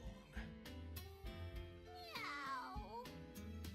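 A voice imitates a cat's meow in a BlazBlue video game scene, one wavering descending mew rising out of quiet background music with soft percussive beats.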